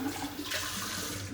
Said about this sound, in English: Let's kind of drain the sink basin of water here.